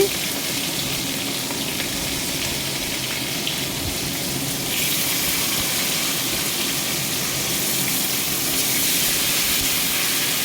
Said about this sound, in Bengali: কড়াইতে রসুনটাও ছেড়ে দিলাম তারপরে ডুমো ডুমো করে কেটে রাখা পেঁয়াজগুলো সেটাও দিয়ে দিয়েছি